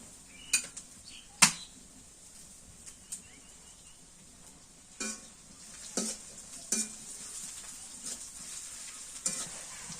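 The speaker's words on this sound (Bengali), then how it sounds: "পেঁয়াজ আর মশলা ভাজা হয়ে গেছে" Onion and spices fry in a pan over a clay stove, giving a steady soft sizzle broken by a few sharp clinks and scrapes of stirring. No one speaks.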